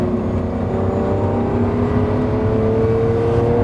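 A Lamborghini Countach engine accelerates hard on the Autobahn, a loud, steady roar whose pitch climbs smoothly throughout, heard from inside the car with no talking.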